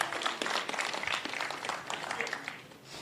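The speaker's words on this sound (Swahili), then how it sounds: "Apigwe makofi." Audience applause at a municipal board handing-over ceremony in Meru, Kenya: a steady, dense wash of many hands clapping that holds for about three seconds, moderately faint, with no clear talk over it.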